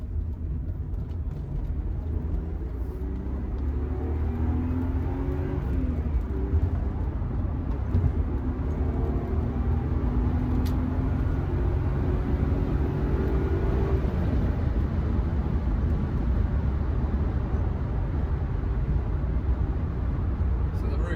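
A BMW E36 cruising at just over 70 mph with a replacement side window lacking a rubber gasket, a steady low road and engine drone with faint wind rush, continuous and close throughout.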